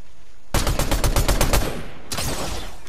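Rapid automatic gunfire in an Unreal video game, a loud burst of evenly spaced shots for about a second and a half, then a brief pause before another sustained burst begins.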